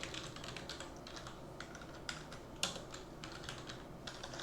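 Rapid keyboard typing clatters close by, irregular keystrokes with a few sharper taps, quiet overall and no voices.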